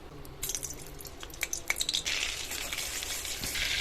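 Butter melts into about two spoons of white oil in a hot kadai for homemade butter chicken, giving a soft, close sizzle with scattered drips and pops that builds into a steady hiss.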